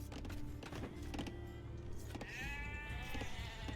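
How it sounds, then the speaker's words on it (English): Sheep bleat in the Age of Empires 2 Definitive Edition strategy game, a wavering animal cry rising over a dense, steady bed of game sounds and background noise, with no talk over it. "There's some more sheep."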